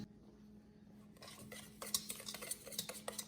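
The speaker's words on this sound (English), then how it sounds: "Just mix it up a little bit." A chocolate cream pie mixture is stirred in a bowl with the burner off, starting quiet and then turning into soft, rapid scraping and clinking of a utensil against the bowl, close and faint, with no talk.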